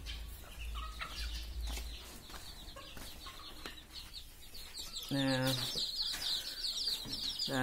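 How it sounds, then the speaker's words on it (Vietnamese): Bantam chicks about two weeks old chirp with high, thin peeps in quick series, close and moderately loud, over a low background hum. "Đây gà tre mới nở"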